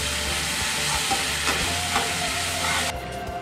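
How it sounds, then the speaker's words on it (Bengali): Ginger garlic paste sautéing with fried katla fish in a pan for a spicy Bengali fish curry, giving a steady close sizzle with a few soft stirring scrapes, no voices. "এবারে আমরা 2 মিনিট মতন একটু ভালো করে কষিয়ে নেব।"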